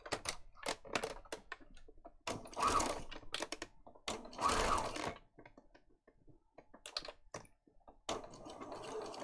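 A sewing machine stitches paper and fabric junk journal pieces in several short, quiet bursts separated by pauses.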